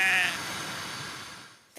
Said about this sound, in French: compter sur les moutons avec l'éco-pâturage qui font aussi fuir les espèces invasives